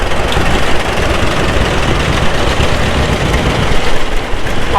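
A John Deere 70 tractor engine runs in a parade at a steam threshers' reunion in Rollag, Minnesota, giving a loud, steady, close rumble that holds without a break throughout.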